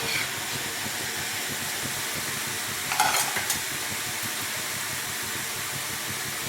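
Steady sizzling of gram flour boondi batter frying in hot oil, a continuous crackly hiss with a brief brighter burst of bubbling midway, no voices.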